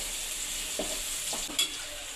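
Curry leaves frying in hot oil give a faint, steady sizzling hiss, with a few soft stirring knocks from the pan.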